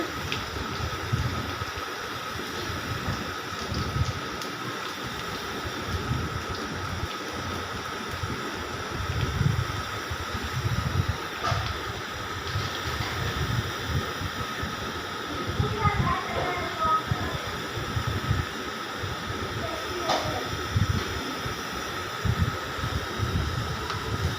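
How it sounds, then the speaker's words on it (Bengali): Chopped onion sizzles steadily in a frying pan as it browns for a papaya dal, a constant crackling hiss throughout with a person talking over it. "পেঁয়াজ কুচিটা আস্তে আস্তে বাদামি কালার হবে ভেজে নিতে হবে ভাজতে ভাজতে পেঁয়াজটা লাল হয়ে যাবে"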